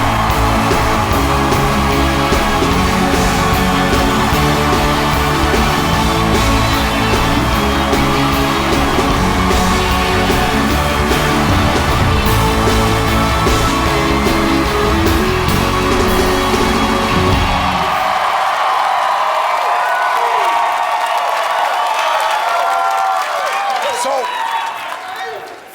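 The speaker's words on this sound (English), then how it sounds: "Everybody give a big cheer, Ashley" A television studio audience cheers, whistles and applauds loudly for Ashley Tisdale on a late-night talk show, with a house band playing underneath, sustained for about eighteen seconds before the music cuts and the noise fades.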